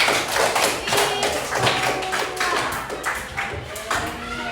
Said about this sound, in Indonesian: tepuk tangan buat kelompok visual